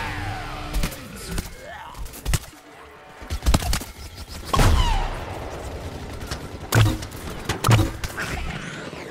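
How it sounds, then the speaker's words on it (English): Gunfire in the video game Plants vs. Zombies: Garden Warfare, a series of sharp, loud shots and short bursts spread irregularly over several seconds against quieter game ambience, with no talking. "somebody's shooting me"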